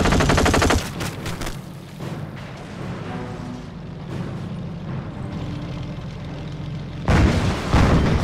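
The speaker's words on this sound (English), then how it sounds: "We are under fire!" Sustained machine-gun fire and scattered explosions fill a Company of Heroes battle, with dense bursts opening and closing the stretch around a steady rumbling barrage in between.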